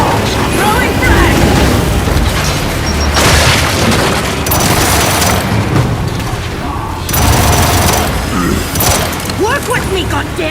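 Frag grenade blasts in Gears 5 co-op combat: loud, booming explosions repeat through the stretch, layered with gunfire and battle noise, and the biggest bursts roll out with long rumbling tails.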